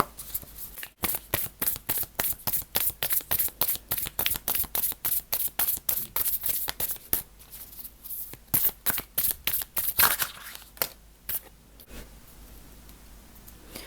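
Tarot cards being shuffled in a rapid, steady run of crisp riffling clicks, close and fairly loud, slowing into scattered taps toward the end with no talking.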